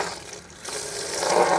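Water pouring for an animal on a farm, a soft splash that swells after a brief lull into a fuller, rising gush of liquid, close by and without talk.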